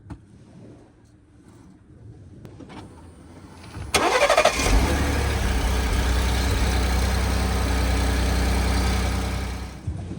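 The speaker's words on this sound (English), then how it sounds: "Fire up the engine." A quiet moment, then a van engine with a fuel leak cranks and fires up abruptly, settling into a loud, steady idle that runs to the end.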